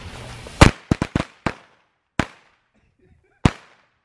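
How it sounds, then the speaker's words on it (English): Firecrackers on the Fourth of July go off as sharp, loud bangs: a cluster of five quick pops, then two more spaced out, each dying away into near silence. "that's firecrackers right there"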